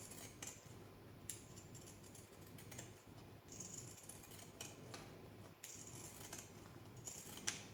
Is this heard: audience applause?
no